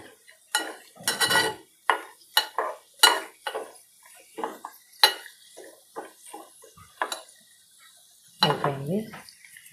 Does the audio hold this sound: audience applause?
no